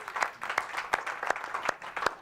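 An audience at an evening talk event applauds, a short burst of scattered, fairly sparse claps at moderate distance.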